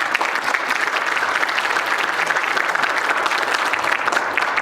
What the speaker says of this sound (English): All the boys in the operating room, I think they deserve a huge applause.